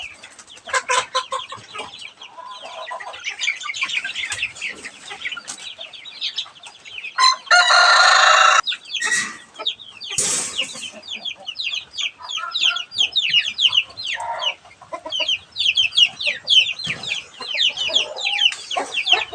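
Hen with chicks moved into a pen with larger chickens, continuous busy clucking and peeping from several birds close by, with a few louder squawks and a crow midway.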